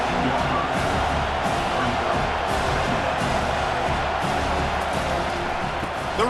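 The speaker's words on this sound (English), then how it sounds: "This crowd knows when to bring it." Stadium crowd roaring and cheering in a College Football 25 game, Auburn versus Arkansas, a steady dense wall of noise under a play-by-play commentator's voice.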